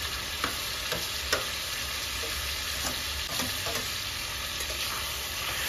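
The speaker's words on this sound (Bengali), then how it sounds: "টমাটোর পেস্টের সঙ্গে ভালো করে ভেজে নেবো, যাতে কাঁচা টমাটোরের গন্ধটা চলে যায়" Chicken karahi frying in a pan with tomato paste after ginger and garlic, a steady close sizzle broken by occasional stirring scrapes and taps, no voices.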